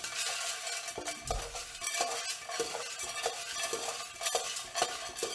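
A big spoon stirs something in a container, making close, irregular scraping and clinking strokes with a few sharper knocks, moderately quiet and with no voices.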